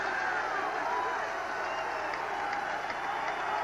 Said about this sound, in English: Pretty good sized little crowd here at Nickerson Field, making some noise.